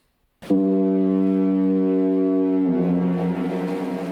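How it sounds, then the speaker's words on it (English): A single loud, deep foghorn blast starts abruptly and holds steady for several seconds, its low droning tone dominating everything. "Every foghorn has a unique sound, its own pattern."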